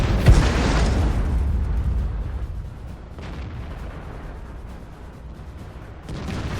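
A tank shell explodes with a loud, close boom in World of Tanks, played in a Bat-Chatillon 25t, and a lower rumble of battle follows. No voices are heard.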